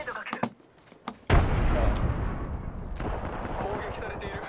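A grenade detonates in a shooter video game, a sudden heavy boom followed by a long rumbling roar after a few short clicks and sparse taps, with a voice heard around it.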